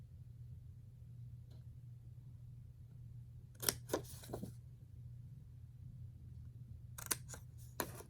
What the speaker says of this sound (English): I'm going to cut this little box off here